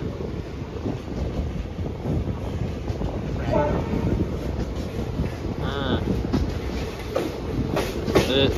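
A train rumbles and clatters steadily across a bridge on the Sakleshpur to Subramanya line, with a rhythmic clack of wheels and wind buffeting the microphone, a few faint voices in between.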